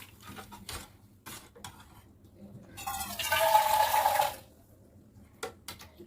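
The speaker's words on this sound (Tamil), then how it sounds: "தண்ணி ஊற்றிக்கலாம்." Water poured into a cooking pot while making carrot payasam, a steady splashing gush lasting about a second and a half amid faint kitchen clatter.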